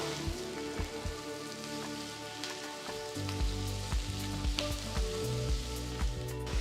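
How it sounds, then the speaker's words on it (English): Chopped tomatoes and onions with green chilies sizzle in a hot pan, a steady crackling spatter with scattered sharp pops, close and even, with no talking. "after sauteing the onions for about 3 minutes, next add 3 medium-sized tomatoes finely chopped"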